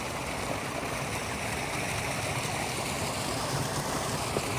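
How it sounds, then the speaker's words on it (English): A creek flows at night beside a trail campsite in Arizona, its water rushing and hissing in a steady, unbroken wash that holds an even level throughout. "Oh, I love sleeping by a creek."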